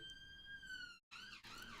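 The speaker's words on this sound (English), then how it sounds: "Just like London buses, you get not one siren, but two." A wailing siren sound effect with a steady, high, harmonic tone that breaks off briefly and then returns as a second rising wail, loud and close, with no talk over it.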